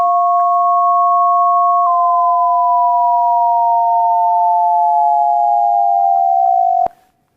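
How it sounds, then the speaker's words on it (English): Two loud, pure electronic tones for a lecture demonstration of a combination tone: one holds steady while the other slowly glides down toward it. Both sound together for about seven seconds and then cut off abruptly. "Listen for this rising tone."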